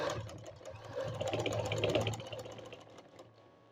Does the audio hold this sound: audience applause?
no